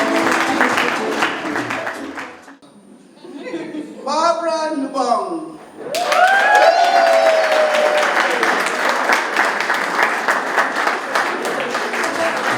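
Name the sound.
audience applause at awards ceremony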